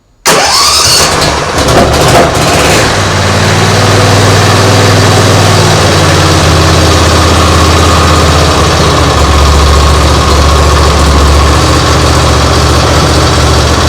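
A Husqvarna engine catches with a sharp start and then settles into a steady, loud, close idle that holds evenly to the end, with no talk.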